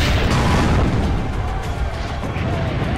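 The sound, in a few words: cannon fire explosion in Assassin's Creed: Brotherhood video game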